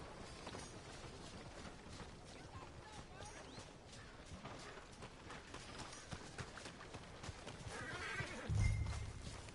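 In the Red Dead Redemption 2 video game, a horse's hooves plod and shuffle quietly, followed by a short, louder neigh near the end over a soft, busy background.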